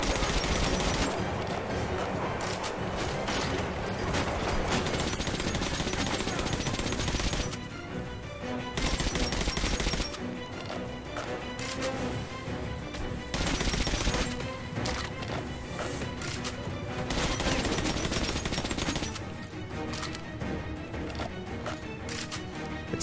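Dense, sustained gunfire and combat noise fill the video game Metro Last Light, loud and nearly continuous for over twenty seconds with only a few brief dips in intensity.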